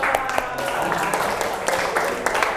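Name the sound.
classroom students clapping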